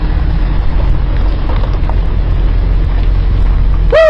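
A BMW car pulling up, heard as a steady low engine rumble mixed with wind buffeting, ending with a brief high squeal.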